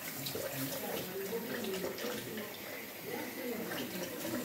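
Shashlik meat is rinsed by hand in a bowl under a running warm-water tap, a steady close splash and trickle with faint, intermittent handling sounds.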